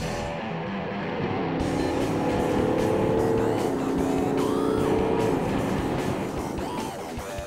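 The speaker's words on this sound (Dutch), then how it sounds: "De Golf besluit dan nog even in te halen via de afgesloten rijstrook vlak voor de pijlwagen." A VW Golf speeding along a Dutch highway and overtaking through a closed lane, heard as a loud, continuous roar of engine and tyre noise from inside a following vehicle, with a steady wash of road sound throughout and no talk.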